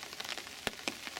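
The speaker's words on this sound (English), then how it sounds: "It's drizzle" Light drizzle falls on an early-September day beside the River Swale, in still, sheltered air, as a soft, faint patter with a few sharper drop taps standing out.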